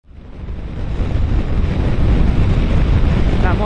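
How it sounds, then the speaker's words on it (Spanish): Strong headwind roars and buffets across the microphone on a Wottan Storm S300 scooter at 115 km/h, rising quickly to a loud, rushing low rumble that holds steady. "La moto ahora estoy andando con mucho viento en contra, a 115 km por hora"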